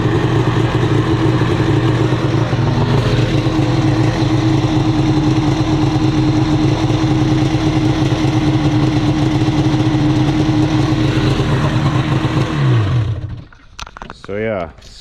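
A 2010 Arctic Cat 800 HO Crossfire snowmobile with about 6,700 miles, its two-stroke engine running loud and close at a steady rattling idle for most of the clip before cutting off near the end.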